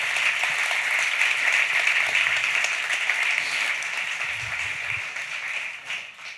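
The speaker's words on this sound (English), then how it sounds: "Give Marilyn a big round of applause." Audience applause at a DNX Lisbon 2018 conference talk, a big room clapping loudly and steadily, then gradually thinning and fading out near the end.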